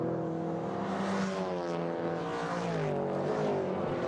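Classic saloon race cars at a sports and saloons meeting, a Mark 1 Ford Escort among them and a Ford XR2, roar past with continuous engine drone and shifting pitch, loud and sustained with no talk.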